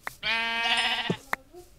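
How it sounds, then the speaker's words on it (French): A sheep gives one loud, close bleat lasting about a second, wavering and nasal, followed by brief quieter sounds and a short voice. "C'est des moutons."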